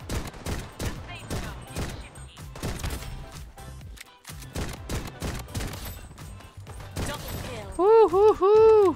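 Desert Eagle pistol shots in the game Bloodstrike ring out as a rapid series of sharp, loud cracks in clusters, followed near the end by a voice whooping over the action.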